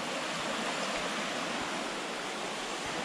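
Royds Beck, a woodland stream, rushes steadily out of the trees toward an embankment, a constant broadband wash of flowing water with no pauses, close and fairly loud throughout.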